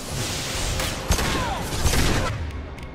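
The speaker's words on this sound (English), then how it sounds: "I know you're taking heavy fire." Heavy gunfire in the sci-fi shooter game Mass Effect 2 forms a dense, continuous barrage of shots and blasts for three seconds, with a sharp louder burst partway through. It stays loud and close throughout, with no talking over it.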